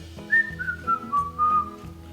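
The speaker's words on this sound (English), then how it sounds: "I like to whistle my fears away" A person whistles a short, descending melodic phrase of several clear notes, close and alone, over soft background music.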